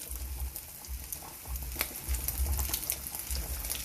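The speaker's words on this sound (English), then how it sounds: "pan is hot, so you add your pork chops." Pork chops hit a hot oiled pan and sizzle, a soft continuous crackle with low thumps as the meat is laid in, fairly quiet and without talk.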